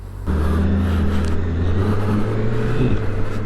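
A Honda CBR650R motorcycle with E-Clutch pulls away under acceleration, its engine a steady, close, loud drone with rising pitch and a brief gear-change dip near the end, no talk.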